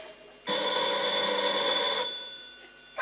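A telephone bell rings once in a stage comedy, a loud continuous metallic ring lasting about a second and a half before cutting off into quiet room tone.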